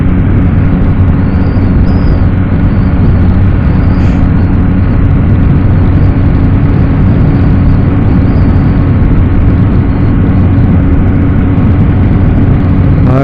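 Yamaha MT09 motorcycle engine droning steadily throughout a ride, a loud continuous mid-pitched hum with strong wind rumble and no clear revving peaks.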